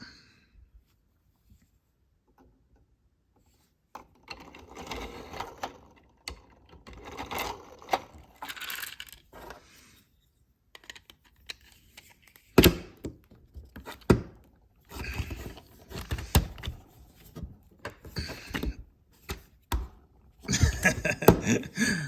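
Speed loader clicking and scraping against a handgun magazine while failing to push rounds in, giving irregular clusters of sharp mechanical clacks and rattles after a quiet opening, with a louder burst of clattering at the end.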